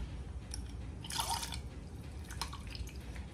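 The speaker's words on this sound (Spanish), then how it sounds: "le vamos a agregar el jugo de limón a la leche" Lemon juice is squeezed from a lemon and drips into a cup of milk, a few faint liquid drips and a short wet splatter in the middle, heard close up in a quiet kitchen.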